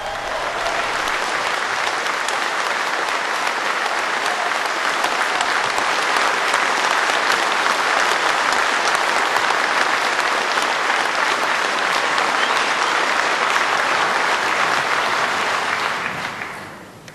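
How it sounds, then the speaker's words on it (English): Loud, sustained audience applause at a political conference welcoming Margaret Thatcher onto the stage for a speech on Europe, a dense steady roar of clapping lasting the full stretch before fading at the end. "Let's hear her applause."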